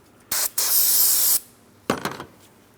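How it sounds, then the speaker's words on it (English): Close hissing bursts of aerosol parts cleaner sprayed onto a rag: a short puff, then a longer sustained spray, and a softer final burst after a pause. No voices. "give this a quick wipe with a clean rag with some parts cleaner directly on it"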